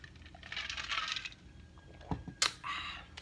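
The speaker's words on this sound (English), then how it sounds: "I love the sound of ice in my drink" Ice cubes clink and rattle inside a cup of Gatorade in a few quiet, scattered knocks and a brief shake, faint and close in an otherwise hushed room.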